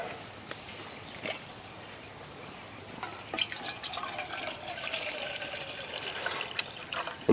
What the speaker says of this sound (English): We'll go ahead and fill it up with some water.